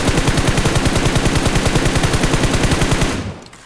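Sustained automatic gunfire spray in the mobile battle royale game BGMI, a rapid, even burst of loud shots lasting about three seconds before cutting off abruptly, with no talking.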